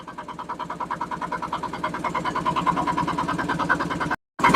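A boat's motor chugs steadily on open river water, a loud rhythmic mechanical thrum close by that runs without a break before a brief cut near the end.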